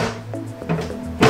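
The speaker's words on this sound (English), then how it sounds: "it looks like the door just slides on like this" Plastic door of an Excalibur 3900B food dehydrator sliding into place, heard as a few close scraping rubs and soft knocks that finish in a firmer thunk.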